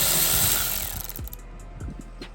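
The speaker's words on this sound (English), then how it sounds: "first thing we're gonna do is take out this T30 bolt" Power tool removing a T30 bolt on a 2022 Sea-Doo RXP-X 300 personal watercraft, a loud steady whirr for about a second that winds down, followed by a few quieter clicks and knocks.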